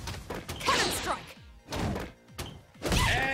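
Heavy thudding impacts land in quick bursts, with crashing hits and sharp whooshes, loud and close, from a fighting video game match featuring Zangief, Blanka and Cammy.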